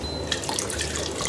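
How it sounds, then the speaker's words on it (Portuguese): Water pours and splashes into a pot of rice being cooked for a Portuguese salt-cod rice dish, a close, continuous trickle and gurgle lasting about a second. "Vamos pôr mais água."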